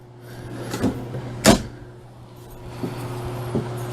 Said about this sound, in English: Deep drawers, you know, pots, pans.